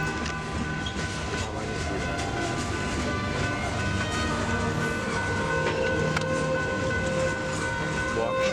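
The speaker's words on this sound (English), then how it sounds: "I got stuck behind a train" A train rolls past a stopped car as a storm approaches, a steady loud rumble with rhythmic clicks of wheels on rail joints and a faint horn-like tone, continuous throughout.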